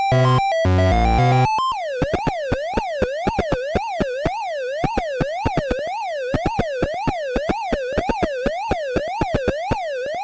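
Atari 2600 maze game sounds: a short rising jingle, then a repeating warbling siren-like tone wobbling up and down over steady, ticking blips.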